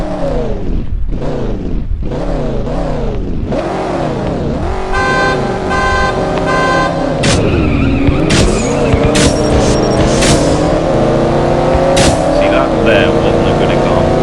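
A Pagani Huayra racing in CSR Racing, its engine revving up through repeated rising sweeps, then gear shifts and a sustained high-revving roar with tire squeal, loud and continuous, with a voice talking over it.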